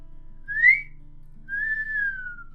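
A two-part wolf whistle, a short rising note followed by a longer falling one, clear and close in a quiet room.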